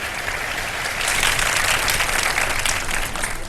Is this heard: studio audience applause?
yes